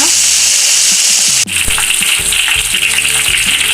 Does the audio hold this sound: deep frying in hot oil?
yes